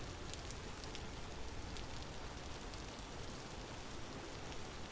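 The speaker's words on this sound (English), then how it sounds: "And it has been absolutely pouring down rain the whole time." Heavy rain pours down in the video game Vintage Story, a dense, steady hiss of rainfall that holds at an even level throughout, with no other sounds.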